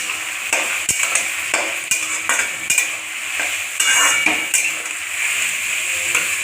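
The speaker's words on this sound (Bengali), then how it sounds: "একটু নাড়া দিয়ে দিই।" Vegetables sizzle and fry in a pan while a utensil scrapes and stirs them in repeated strokes, with occasional clinks against the pan, close and steady without talk, in a home kitchen with pumpkin and garlic on hand.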